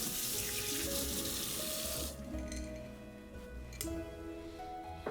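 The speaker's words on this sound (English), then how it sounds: "I'm gonna give my hands a quick rinse." A sink tap runs steadily as hands are rinsed under it in a home kitchen during pie making, the loud rush of water cutting off after about two seconds, leaving quieter dripping and clatter.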